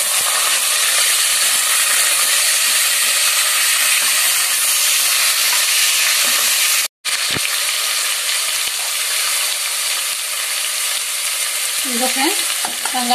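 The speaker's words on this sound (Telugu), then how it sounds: "ఇప్పుడైతే ఇలా ఫ్రై అవుతున్నాయి కదా" Vegetables frying loudly in a pan for chicken curry, with steady broadband sizzle close by and a brief cut near the middle, then a few stirring scrapes toward the end; no one talks.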